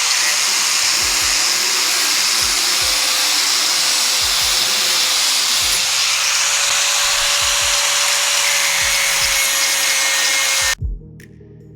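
A large flap disc wheel on a grinder dresses the cut edge of a metal fender panel on a Jeep TJ/LJ, a loud, steady high-pitched grinding whine with small bumps as it bites, cutting off abruptly near the end.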